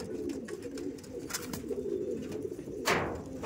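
Homing pigeons kept at a breeder's house cooing, a steady low rolling hum with soft repeated coos close by and a brief brighter rustle near the end.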